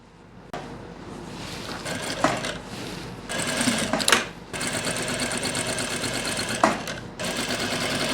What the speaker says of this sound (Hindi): मैं अब सिलाई लगा रहा हूँ